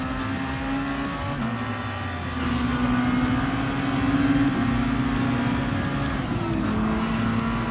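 Race car engines in Gran Turismo Sport, in a Red Bull X Junior Series event, whine at high pitch as the cars accelerate and pass one another, loud and steady with no talking.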